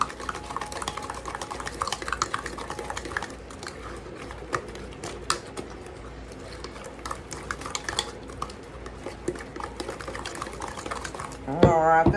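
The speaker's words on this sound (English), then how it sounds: "Let me get it stirred up." A spoon stirs squash pup batter in a bowl, giving a steady run of scraping, clinking strokes close by for several seconds, with a louder knock at the end.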